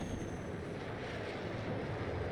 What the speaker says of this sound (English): Then you've got your afterburner, which gives you a bit of speed.